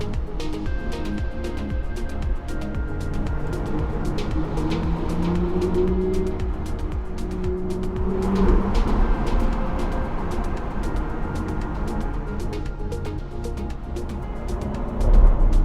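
Cars roar through a narrow road tunnel in the Alps, a dense, echoing rumble that swells as vehicles pass close by, steady and loud throughout with no speech.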